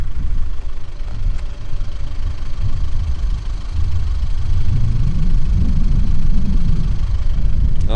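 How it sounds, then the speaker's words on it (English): Steady low rumble of a car engine idling nearby, continuous and even with a slight rough pulse, heard alone with no talking. "Engine is on."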